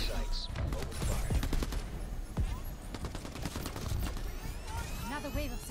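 Enemy security troops open fire in a boss fight of a first-person action game, bursts of rapid gunshots crackling among game sounds and music, with voices speaking over the action.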